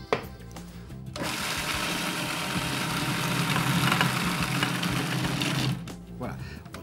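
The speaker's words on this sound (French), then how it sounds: "on commence par mixer la chair en premier" A food processor mixing pike-perch flesh with salt runs in one loud, steady whirring burst of several seconds, starting and stopping abruptly, with no talk over it.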